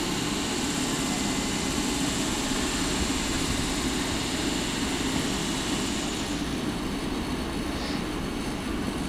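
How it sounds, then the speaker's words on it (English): Trains at Bishopton railway station in Scotland give a steady, broad rumble of rolling stock and engine noise that holds at an even loudness throughout, with no talking over it. "You can hear trains in the background."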